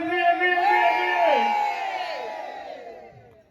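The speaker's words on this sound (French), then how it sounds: "Vous avez crié plus fort que ça. Criez." A crowd at a French municipal election campaign rally shouts and cheers loudly, overlapping yells and whoops swelling early and then slowly fading as the roar dies down.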